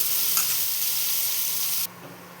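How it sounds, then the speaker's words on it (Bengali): Finely chopped onion hitting hot oil with whole spices, a loud, hissing sizzle that suddenly drops to a quieter crackle near the end. "এবার আমি কুচনো একটা বড় পেঁয়াজ কুচিয়ে মিহি করা একদম এটা দিয়ে ভালো মতো ভেজে নেব।"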